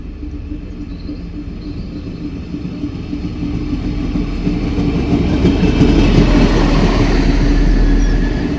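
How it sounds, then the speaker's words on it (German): An RE 18 regional train bound for Osnabrück rumbles steadily at a station platform, its low drone swelling gradually with faint rail clatter and no talking. "Schade, der Zug ist abgekoppelt."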